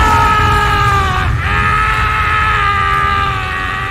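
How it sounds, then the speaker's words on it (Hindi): A long, blood-curdling human scream in a horror story, loud and sustained for several seconds with a brief wavering dip partway through, heard alone over a rumbling background. "तभी चट्टान के उस पार से हमें एक खून जमा देने वाली चीख सुनाई दी।"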